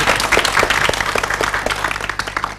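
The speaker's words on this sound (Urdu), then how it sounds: "صحیح سے تالیاں بجا دیں." A studio audience on a morning TV show breaks into brisk, close-sounding applause, many hands clapping densely for a few seconds before easing slightly.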